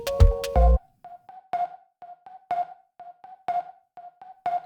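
A loud distorted chord hits first, then a sparse, gritty electronic pattern of short plucked notes and clicks in a steady rhythm.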